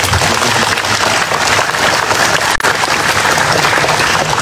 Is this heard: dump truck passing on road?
no